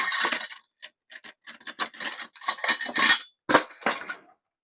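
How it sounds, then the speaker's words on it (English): A metal tablespoon and a small grater clink and rattle as they are handled in a home kitchen, a quick string of sharp, close taps and scrapes with short pauses and no talking. "We are going to get a tablespoon and my little tiny grater that I like to use."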